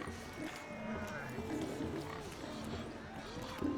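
A pig in The Witcher 3 grunts in short rising and falling snorts, several in succession at moderate distance, over faint game ambience and a low background hum.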